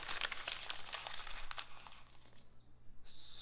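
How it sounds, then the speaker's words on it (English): Paper drawing being crumpled into a ball by hand, a dense run of crinkling and crackling for about two seconds, close and fairly loud, then fading to a few quieter rustles. "scrunch it into a ball like that"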